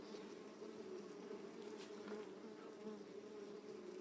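Steady, dense buzzing of many stingless bees in an opened hive close by, a continuous low hum with no voices.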